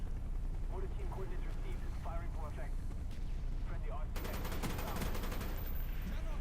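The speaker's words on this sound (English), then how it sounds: "Get another mortar strike." Mortar strike explosions in a video game, a dense burst of rapid booming impacts erupting in the latter part, heard over constant game noise and someone talking.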